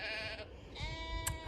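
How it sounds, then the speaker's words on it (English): Sheep bleat at Summer Leys nature reserve in Northamptonshire, with a couple of faint, distant, wavering cries over quiet outdoor ambience. "So we've got some noisy sheep"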